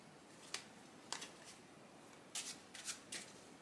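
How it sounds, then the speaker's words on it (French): A blue deck of playing cards being shuffled during a magic trick, with several faint, brief riffling bursts spaced apart in a quiet room. "Tu vas mélanger le jeu bleu."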